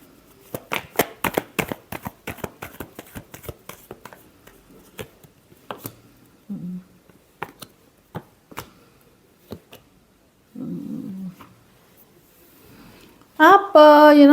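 Tarot cards being shuffled by hand in a string of crisp flutters and riffles, fairly close, with a couple of soft rustles and a sharper burst at the end.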